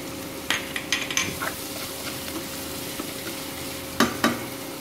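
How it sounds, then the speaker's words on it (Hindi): Chopped onions, already golden brown, sizzle and fry steadily in a pan as ground green chili and garlic paste is added, with scattered clinks and scraping stirs over a continuous frying hiss and no talk. "इसमें हम ये हरी मिर्ची और लहसुन को मिक्सी में पीस लिया है, अब ये डाल देंगे।"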